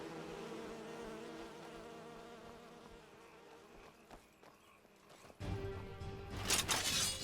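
Swarming bees in the fantasy game Enderal drone as a steady insect buzz through the clip, swelling louder and busier near the end alongside bursts of game noise.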